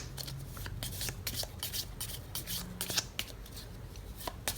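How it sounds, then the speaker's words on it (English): Close, rapid riffling and rubbing of playing cards being shuffled, a steady flurry of crisp flicks with no talking. "I really want to shuffle it well so that I get the right ones."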